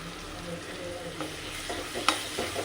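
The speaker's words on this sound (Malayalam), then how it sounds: "ഇനി നമുക്ക് ചതച്ച് വെച്ചിരിക്കുന്ന ഇഞ്ചി, വെളുത്തുള്ളി, 3 ചെറിയ പച്ചമുളക്, കറിവേപ്പില ഇട്ട് കൊടുക്കാം" Crushed ginger, garlic, three small green chillies and curry leaves frying in a pan, a soft sizzle broken by scraping stirs and a few sharp clinks of the spoon against the pan.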